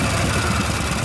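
A 1973 Harley-Davidson 74ci shovelhead motorcycle engine idles after an E carburetor rebuild, a loud close steady rumble with an even throbbing pulse and no talk.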